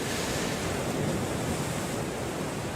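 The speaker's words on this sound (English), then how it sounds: "There's water running in all directions out there. Waves coming from different directions." Ocean waves and surf at a surfing contest on a lake coast with onshore wind, a loud, constant roaring wash of breaking water blended with wind noise and no voices.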